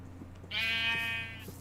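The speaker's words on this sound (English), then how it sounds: "More sheep." A single drawn-out sheep bleat from the video game Minecraft, clear and fairly close over a steady low background hum.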